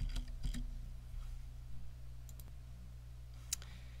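Faint, sparse key clicks come from a computer keyboard while someone types into Microsoft Word, with a few isolated taps spread over a quiet hum.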